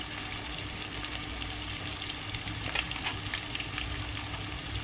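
Eggs for an omelette frying in a pan at home, a continuous crackling sizzle with small pops, steady and close, with no talking.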